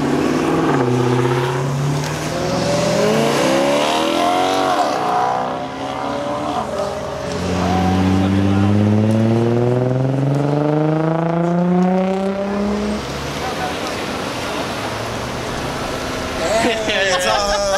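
Cars accelerating hard, their engines revving in rising and falling sweeps that swell loud and close, then ease off before another pass builds, with one continuous engine roar throughout.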